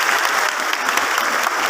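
Loud, close applause from the audience at a sixth-grade farewell ceremony at an Islamic boarding school in Jagakarsa, a brief dense burst of clapping.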